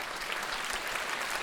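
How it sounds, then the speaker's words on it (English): An audience at a talk on exercise in multiple sclerosis gives steady, even applause for the event sponsors, a dense wash of clapping at moderate volume with no voices. "So let's give them a round of applause for supporting this event."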